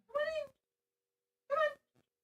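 A cat meows twice close by, two drawn-out tonal calls about a second apart, with a tiny faint chirp after the second in a quiet room.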